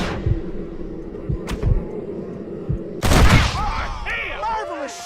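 Gunfire in a Western shootout from the video game Red Dead Redemption: several sharp, loud shots scattered through the first seconds, then a heavy burst of fire, with game voices and background noise around them.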